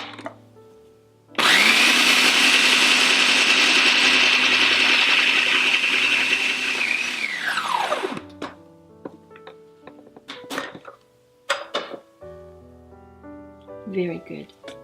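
A blender whirs loudly and steadily for about seven seconds, then winds down and stops; afterward come scattered clinks and a person talking.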